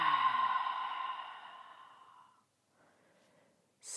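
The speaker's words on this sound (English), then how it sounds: "And then I'd like you to exhale onto your mirror." A long, breathy open-mouth exhale onto a mirror during ujjayi yoga breathing, loud and close, fading out after about two seconds, followed by a faint softer breath.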